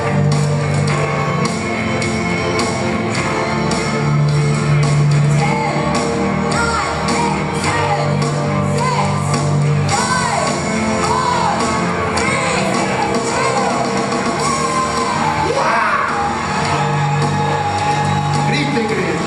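Church congregation shouting together during worship, a dense, loud wall of crowd yells and whoops sustained throughout, with a leader's voice rising over it.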